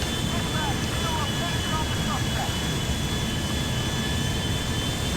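A futuristic airliner in a video game rolls down the runway for takeoff. A constant, loud engine roar with a high steady whine runs unbroken, and some talk sits beneath it.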